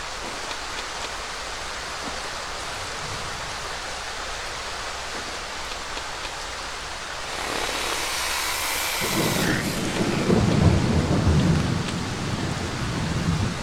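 A rain and thunderstorm recording plays loud and steady: a constant wash of rainfall, then a deep rolling thunder rumble swells partway through and lingers under the downpour.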